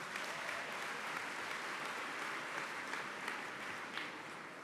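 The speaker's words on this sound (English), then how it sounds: "They deserve a round of applause." An audience applauds at a 2021 NSW women-in-construction awards-for-excellence evening: a steady, even wash of clapping from a large room, heard at a distance and fairly soft, with no voices over it.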